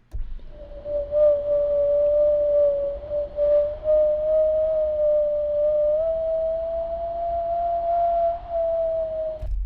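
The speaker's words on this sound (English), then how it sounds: "I wanted to create a general gustly whistling wind to create a bass track for everything" A steady, whistling wind tone built from mouth samples holds one pitch with slight wavering and swells, over a low rumbling bed, sustained throughout before cutting off.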